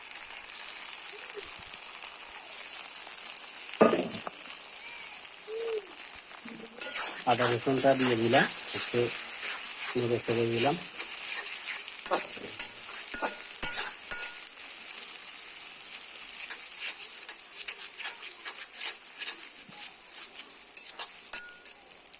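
Ginger and garlic fry with browned onions in a pan for broiler chicken curry, sizzling steadily throughout. A spatula stirs and clinks against the pan, and a voice speaks in short bursts over the cooking.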